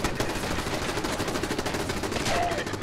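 Automated turrets in a post-apocalyptic survival video game spray rapid, continuous gunfire, a dense loud rattle of shots that carries through the entire moment without a break.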